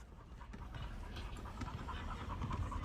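A dog pants rapidly and steadily close by, the quick rhythmic breaths carrying on over a low background hum with no talking.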